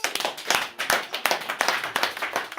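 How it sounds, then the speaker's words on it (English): A church congregation in Lusaka, Zambia claps in quick, loud, irregular bursts, many hands striking together close by for a few seconds. "Clap for the Lord Jesus."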